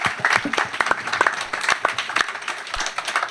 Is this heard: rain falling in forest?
no